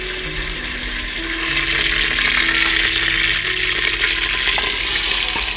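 Onions sizzle loudly in hot oil for an aloo palak dish, a close, continuous frying hiss with faint stirring scrapes and no voices.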